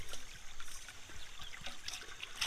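Heavy rain falls on a campsite during a storm, a steady, dense hiss of water with trickling and pattering throughout and no voices.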